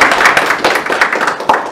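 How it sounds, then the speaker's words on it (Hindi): An audience at a public speaking workshop claps for a speaker, a dense patter of hand claps lasting under two seconds with a few sharper individual claps near the end. "मयंक के लिए एक बार तालियां"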